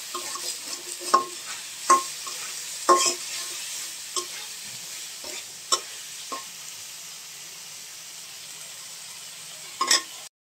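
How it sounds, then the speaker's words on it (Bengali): Prawns and onion fry together in a pan, with a steady sizzling hiss broken by a series of sharp scraping stirs, spaced irregularly and loudest near the start. "চিংড়ি মাছটা একটু ভাজা দিয়ে নিই, পেঁয়াজ আর চিংড়ি মাছ একসাথে"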